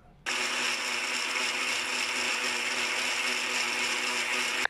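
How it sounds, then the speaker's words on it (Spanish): Cherries whirring in an electric blender with a glass of water for juice, a loud steady motor drone that starts abruptly and holds evenly for about four seconds. "el próximo paso va a ser licuar la cereza"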